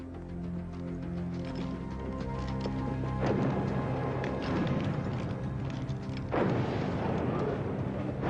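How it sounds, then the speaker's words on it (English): Artillery barrage in a film battle scene: two heavy, booming explosions land about three seconds apart, each a broad crash that trails off, over a steady low rumble and droning hum that runs throughout, with no talking. "Can you tell where the barrage is coming from?"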